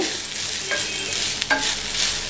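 Steady sizzling from a hot pan as grated coconut is sautéed, with a couple of scraping stirs of a spoon. No one speaks.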